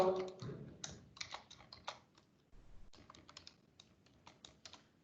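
Quiet, close typing on a computer keyboard, a run of light irregular key clicks with a brief pause midway before the tapping resumes.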